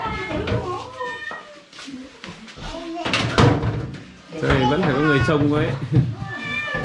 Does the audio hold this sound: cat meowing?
yes